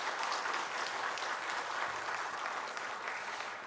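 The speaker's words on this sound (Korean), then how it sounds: "수고해 주신 분들께 한번 큰 박수로 한번 격려해 주시기 바랍니다." A church congregation gives sustained applause during a Korean Sunday worship service, a dense, even wash of clapping from a large room that holds steady throughout.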